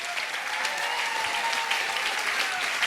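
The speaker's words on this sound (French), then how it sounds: "vous avez pu applaudir ce soir dans le rôle du tenancier Jacques Svalen." A theatre audience applauds the cast at the close of a comic stage show, steady dense clapping filling the room at an even level from start to finish.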